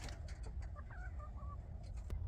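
Backyard chickens, a rooster among hens, give soft, brief clucks and a short warble, faint and fairly close, over a steady outdoor rumble.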